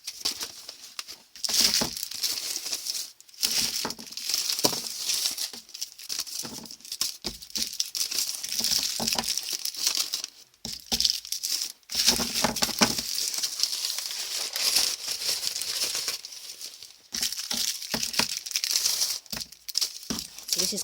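Chocolates are fed by hand into a wrapping-paper cracker tube, making continuous crinkling and rustling of paper with small crackly taps and patters, close up and moderately loud, with brief pauses between handfuls.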